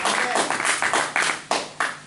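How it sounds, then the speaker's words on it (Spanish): Several people in a church service clap together, a sharp, brisk patter of hands lasting a couple of seconds, with a few louder single claps near the end. "dale un fuerte aplauso"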